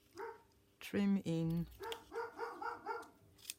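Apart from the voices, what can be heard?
small dog barking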